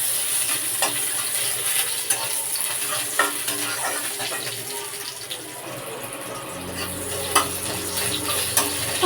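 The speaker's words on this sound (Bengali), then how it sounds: "তেলটা গরম হয়ে গেছে, ওই তেলে একটা পেঁয়াজ কুচি ছেড়ে দিচ্ছি" Finely chopped onion sizzles in hot oil for an egg curry, a steady close frying hiss broken by scattered scraping stirs.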